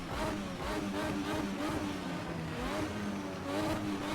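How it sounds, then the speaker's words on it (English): Race car engine in the Assetto Corsa racing game revving steadily in first gear, a loud continuous mid-pitched drone with slight rises and falls throughout, heard alone without talk. "Rev the engine."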